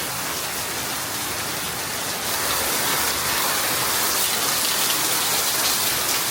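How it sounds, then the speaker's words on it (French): Heavy tropical rain pours steadily in Thailand, a dense, loud, continuous hiss of drops hitting surfaces that swells even stronger partway through, with no voices. "C'est la première fois que j'assiste à une pluie aussi forte en Thaïlande"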